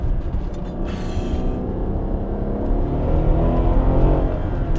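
A Mercedes SL63 AMG pulls forward under light throttle, its engine rumbling low and steady and building slightly toward the end, heard from inside the car with no talking.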